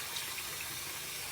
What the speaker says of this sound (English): I'm gonna fill this bin with the cold water